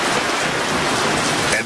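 Heavy monsoon rain pours down in the Western Ghats, a dense, loud and steady hiss of drops battering the surroundings.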